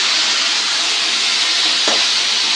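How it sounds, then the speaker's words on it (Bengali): Food fries in a covered pan in a village home kitchen in Bengal, a steady loud hiss of sizzling that runs through the whole stretch with a brief brighter burst near the end. "ঢাকা দিয়ে ওটাকে একটু ভাজা ভাজা করতে হবে"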